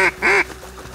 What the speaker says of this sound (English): So in Florida, this is my mallard call.